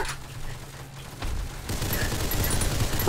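Gunshots in the Roblox game Ragdoll Universe, a dense, crackling volley that swells partway through and continues steadily to the end.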